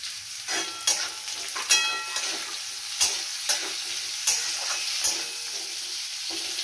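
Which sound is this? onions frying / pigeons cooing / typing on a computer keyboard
onions frying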